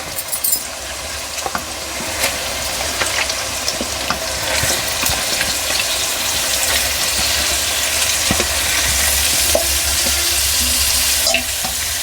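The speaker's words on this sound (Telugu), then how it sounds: "ఈ టైంలో మనం చికెన్ వేసుకుందాం" Chicken goes into a hot pan with spices and is stirred while it fries, making a loud, continuous sizzle broken by scraping and clattering from the stirring, close up and with no voices.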